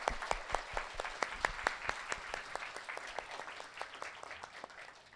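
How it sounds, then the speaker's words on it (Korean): A church congregation claps together at a Korean thanksgiving dedication service, crisp rhythmic claps in a fast steady beat over a bed of scattered applause, gradually softening toward the end. "예배를 통해 새롭게 도전할 힘을 주신 하나님께 최고의 영광의 박수 드리겠습니다."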